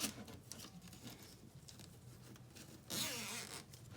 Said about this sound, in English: I open my zipper